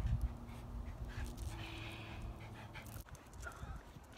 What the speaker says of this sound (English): They're trying to walk the dogs.